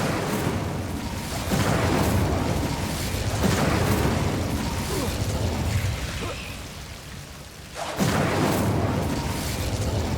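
Incendio fire spell from Hogwarts Legacy, loud roaring bursts of flame that swell and crackle repeatedly, with a brief dip before another fiery blast erupts near the end.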